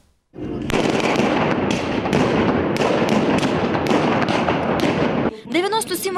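Blank rifle rounds and pyrotechnics crack in a dense, rapid volley during a historical battle reenactment in a town market square, loud and echoing for about five seconds before stopping, followed by shouting voices.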